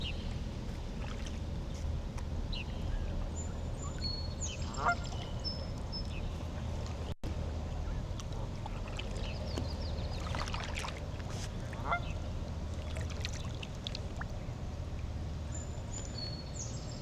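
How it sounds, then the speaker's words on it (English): Geese honk now and then over steady water and ambient noise, out on shallow water and heard from a kayak; the calls are moderately distant, with some scattered bird sounds alongside. "See the geese? Like I said, these geese are pretty much residents out here."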